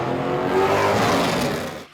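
Race cars thunder past at high speed with loud, rising and falling engine roar and tire noise, building to a peak before fading off as the cars pull away.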